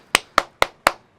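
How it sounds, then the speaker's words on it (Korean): Four crisp, evenly spaced handclaps ring out close by in a lecture setting, each sharp and separate, not the dense roar of a large crowd. "박수 한번 칠까요?"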